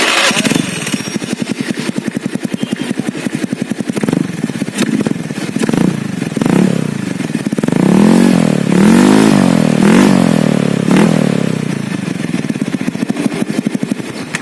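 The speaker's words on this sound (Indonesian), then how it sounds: "Jadi mungkin nanti bakal kita cek sound juga dari knalpotnya." A Varla Thailook-style motorcycle runs its exhaust close up and loud, idling with a steady throb broken by several throttle blips and revs, with no talking over it.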